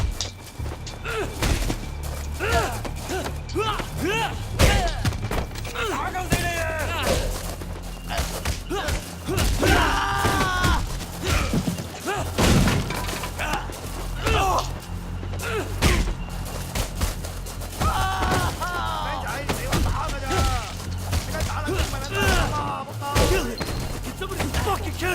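A street brawl in the video game Sleeping Dogs, with repeated heavy thuds, impacts and crashing glass from a spine buster into a window, dense and loud throughout, mixed with grunts and game music.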